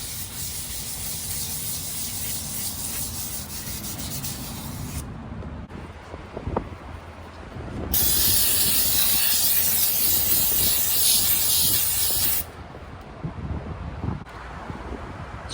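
Carb cleaner sprays from an aerosol can onto a 16 ft jon boat in a garage, giving two sustained loud hissing bursts separated by quieter handling noises and clicks.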